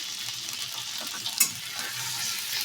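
Potatoes, aubergine and spices with ginger paste, salt, cumin and turmeric sauté in a hot pan, giving a steady close sizzle with a brief louder scrape of stirring midway.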